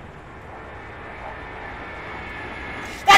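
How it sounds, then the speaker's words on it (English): A jet aircraft in the military video game Arma 3 roars overhead as a loud, steady broadband rush that swells gradually, ending in a sharp burst, with no speech. "Another jet?"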